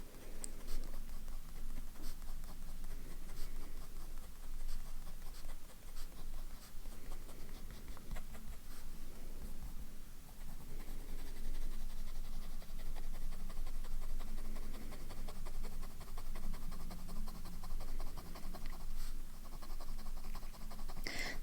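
An extra fine fountain pen nib, slightly widened, scratches across paper in a steady, continuous run of soft strokes and scrapes, close up and alone with no talking.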